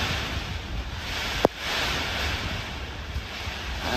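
Strong typhoon wind during a Signal No. 5 storm roars as a loud, continuous broadband rush with no voices, broken by one sharp click or gust burst partway through.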